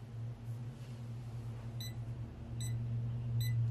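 An automatic rotating curling iron gives three short, high beeps spaced under a second apart, clear and close over a steady low motor hum.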